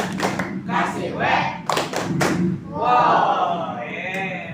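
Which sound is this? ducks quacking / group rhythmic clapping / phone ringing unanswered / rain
group rhythmic clapping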